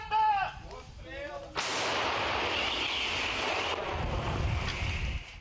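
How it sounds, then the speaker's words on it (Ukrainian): A self-propelled artillery gun fires a shell at the front near Bakhmut, a sharp blast followed by a long roaring rush that fades slowly; someone speaks briefly just before the shot. "Коли ця самохідка стріляє, ти навіть чуєш звук снаряда,"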